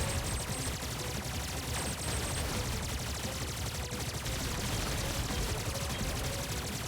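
An enemy fires in the retro video game Terminator 2D: No Fate, a continuous, loud barrage of rapid shots layered over dense, busy game sound.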